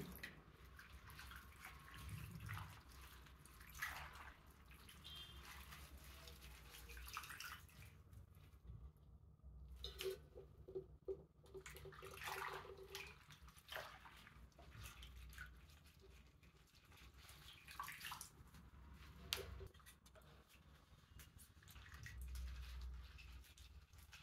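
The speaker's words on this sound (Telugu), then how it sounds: "నీళ్లు పోసి గోంగూర అంతా జాడిచ్చి గిన్నెలో పెట్టుకుందాం అండి" Gongura leaves are swished and rinsed in a bowl of water for chutney, quiet splashing and trickling with intermittent drips and brief pauses, faint and close, no talking.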